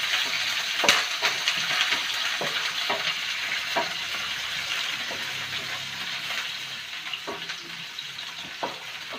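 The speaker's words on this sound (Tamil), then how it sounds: "இப்போ வெங்காயம் ஆனியன் போட்டு கொஞ்சம் அப்படியே" Onions sizzle in a pan with whole cardamom and cloves for mint chicken, a steady frying hiss broken by sharp clinks of a spoon stirring at irregular intervals, close up with no speech.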